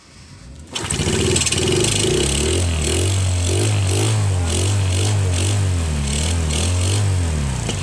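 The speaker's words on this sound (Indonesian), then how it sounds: "Motornya hidup lagi guys. Ini yang sudah 1 tahun mati" A Yamaha Jupiter Z motorcycle, left unused for a year, starts after brief silence and settles into a steady, close idle that runs loud and continuous to the end.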